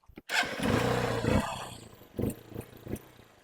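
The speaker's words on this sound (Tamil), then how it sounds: "செல்ஃப்லாம் போட்டு காட்டுறேன்" A 2016 Hero Xtreme motorcycle engine cranks on its electric starter and catches, then settles into a loud, rumbling idle with a couple of throttle blips toward the end.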